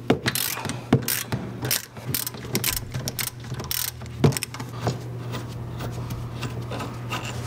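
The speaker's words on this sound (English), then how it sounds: "With an 18 millimeter socket, I'm going to unbolt the integral link," A ratchet with an 18 mm socket unbolts the top of the integral link from the wheel carrier on a BMW E39, giving close, crisp clicks in uneven bursts with brief pauses between strokes.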